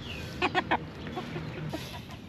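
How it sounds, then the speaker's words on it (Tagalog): Chinese chickens in a backyard coop give three quick, close clucks in a row, followed by softer rustling and faint farmyard background. "Itong mga manok natin ito mga katunying, maamo lang sila."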